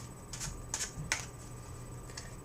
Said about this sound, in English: you do your normal riffle shuffle for a while